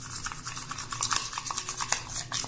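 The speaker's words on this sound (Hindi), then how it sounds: "तो दोस्तों इसको अच्छे से मिक्स कर लेते हैं।" A face pack of lemon juice, gram flour and turmeric being mixed in a small bowl, giving a steady run of soft scraping and stirring strokes, close and fairly quiet, with no voices.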